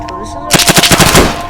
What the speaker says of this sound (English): oh, it's automatic!